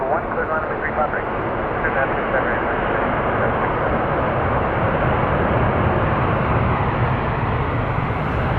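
Jet airliner landing at Calgary International Airport, a continuous broad engine roar that holds steady and loud across the whole stretch, with radio chatter underneath.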